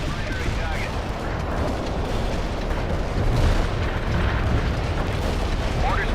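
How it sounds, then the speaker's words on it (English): An artillery barrage pounds the target area in the World in Conflict game, a dense, continuous roar of overlapping explosions that rumbles loudly and evenly throughout without pause. "Artillery barrage hit for full effect."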